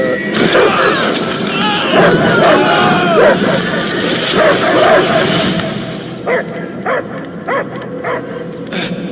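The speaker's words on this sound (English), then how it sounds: "I hear only barking" Creature barks and yips over a noisy, crowded soundscape in the video game Guardians of the Galaxy, then a string of separate sharp barks stands out near the end.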